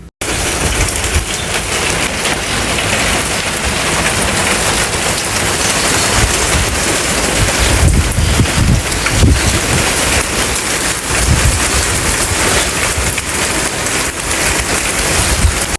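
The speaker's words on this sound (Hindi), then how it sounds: "बारिश जो है दोबारा से स्टार्ट हो गई थी और काफ़ी तेज़ बारिश थी" Heavy rain pours steadily and loudly on a rainy day, a dense unbroken hiss with deeper rumbling swells partway through and no talking.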